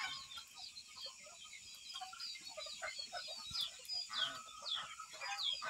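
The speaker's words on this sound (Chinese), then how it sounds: "那母鸡天天都跑出来。" A free-roaming hen clucks softly and repeatedly at a rural home in Laos, faint and somewhat distant amid other bird chirps and low background noise.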